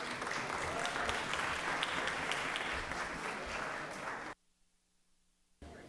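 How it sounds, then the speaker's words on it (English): Sustained applause fills the Georgia Senate chamber, a dense, even roar of clapping from a large room that cuts off abruptly into near silence before the room tone returns. "Give them another round of applause."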